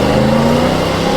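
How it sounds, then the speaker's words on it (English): A 1941 Ford pickup launching at a hill climb festival, loud engine revving hard with a steady strained tone, wheel spin off the line, close and continuous. "Little wheel spin off the line there, but there he goes."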